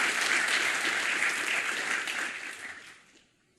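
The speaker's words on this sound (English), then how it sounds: "So I'd like to just say give them a round of applause here." Audience round of applause, loud, dense clapping that holds steady and then tapers off into near silence, ending with one sharp knock.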